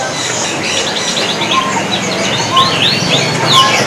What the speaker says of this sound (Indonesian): Ini kenari gacoran sepertinya dia jambul.